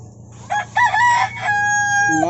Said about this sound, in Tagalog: Murag manok.